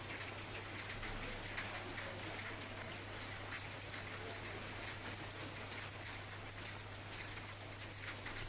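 Steady unseasonal rain falls outdoors in farm country, a continuous even hiss of drops on surfaces, with birds cooing faintly in the background and no voices.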